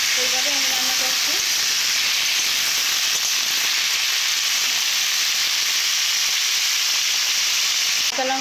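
Aloo kochu curry frying in a kadai, a loud, even hiss of sizzling oil that runs unbroken throughout, with a brief voice at the start and faint stirring underneath.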